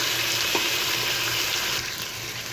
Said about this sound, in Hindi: इसके साथ ही हम टमाटर भून लेंगे।